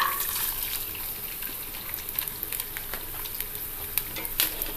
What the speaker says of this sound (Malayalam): ആദ്യം നമുക്ക് തേങ്ങാക്കൊത്തൊന്ന് വറുത്തെടുക്കാം.